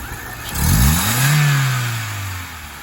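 Hyundai Accent engine revved once under the hood during a fault check for late-morning running trouble, the pitch rising sharply then easing back down toward idle, loud and close with no talking.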